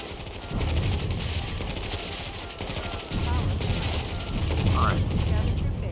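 Continuous gunfire and explosions from the real-time strategy game Warzone 2100, a dense rattling barrage of distant shots under steady background rumble, with talking over it.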